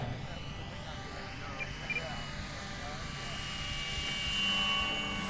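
A 1700 mm FMS radio-controlled P-51 model airplane with an upgraded 360kv electric motor comes in to land at a flying field, its thin motor whine steady and moderately distant, swelling slightly near the end.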